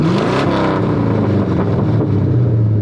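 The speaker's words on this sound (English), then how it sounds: "And listen to the engine." A former police car on a Panther frame, an ex-Florida car with about 170,000 miles, runs its engine loud and close, a steady heavy rumble that rises in a brief rev early on, with no voices.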